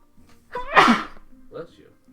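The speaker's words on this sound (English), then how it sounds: "I can't seem to, like, not sneeze." A single close, sharp sneeze with a short intake before it, followed by faint murmured talk.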